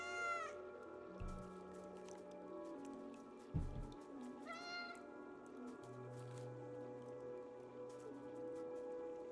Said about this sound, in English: Oh no, there is a black cat.